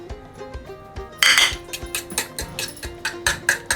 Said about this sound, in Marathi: आता आपण अंड फेटून घेऊ